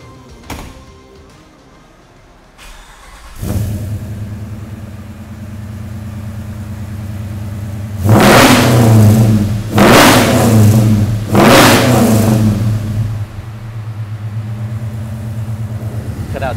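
A 1969 Dodge Charger R/T with exhaust cutouts open cranks and fires, settles into a loud, lumpy idle, then roars through three hard revs before dropping back to a rumbling idle, close by.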